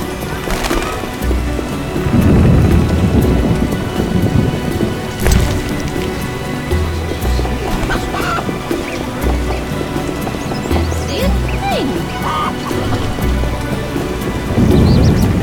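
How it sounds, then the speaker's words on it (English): Heavy rain and rolling thunder in The Witcher video game, a dense continuous downpour with deep rumbles swelling and fading, loud and enveloping throughout. "It'll probably rain"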